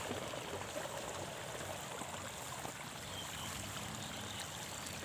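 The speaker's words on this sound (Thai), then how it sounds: "น้ำล้น" Water overflowing and streaming past a fish trap, a steady, continuous rushing and trickling that sounds fairly close and even throughout, with no voices.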